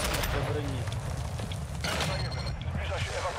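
Gunfire in Call of Duty Modern Warfare II DMZ mode: scattered shots and cracks in a dense, loud game soundscape, with players talking over the action.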